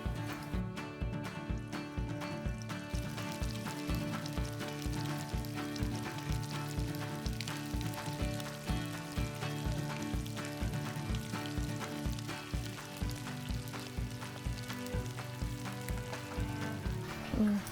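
Thai pork cakes deep fry in hot oil with a steady, close sizzle and a regular crackling pulse throughout. No one speaks.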